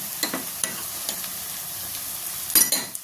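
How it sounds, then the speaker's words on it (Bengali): Ginger garlic paste stirred into onions frying in a pan for a Bengali fish dish, a steady low sizzle with occasional sharp spatula scrapes and a louder clatter near the end. "তো এবার আমি এর মধ্যে এই আদা রসুন পেস্টটা দিয়ে দিচ্ছি।"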